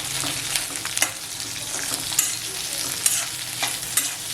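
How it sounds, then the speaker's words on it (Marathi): Onion, garlic and tamarind fry in oil over a medium gas flame, making a close, steady sizzle punctuated by regular scraping stirs of a spoon in the pan. "हो, व्यवस्थित तेलात असा फ्राय करून घ्यायचा कांदा"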